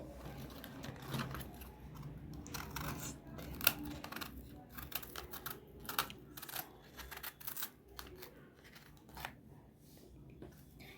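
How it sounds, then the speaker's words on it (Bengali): A knife slices through the hard stems of cabbage leaves in a series of crisp, irregular cuts and clicks, close and fairly quiet, with no talking. "এই রকম করেই চাকু দিয়ে কেটে দেব"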